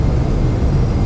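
Boeing 777-200 jet engines in the X-Plane 11 flight simulator give a loud, steady low roar, a close continuous engine drone with no talk.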